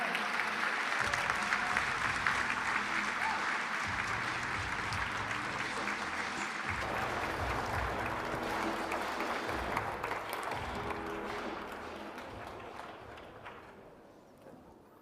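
At a beNeFit XI charity night to cure NF, the audience claps in a full, warm round over soft background music, the applause gradually thinning and fading away toward the end.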